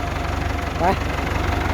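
A Ford 6600 tractor engine idles with a steady low rumbling throb, close and fairly loud, while someone speaks briefly over it.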